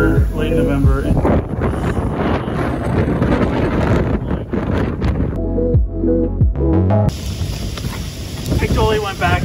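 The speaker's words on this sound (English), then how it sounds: "I don't know what all this wind is about, but it's freaking me out." Heavy, loud wind buffets the microphone throughout a cold late-autumn outdoor run, a constant roaring rumble that dips briefly and then returns.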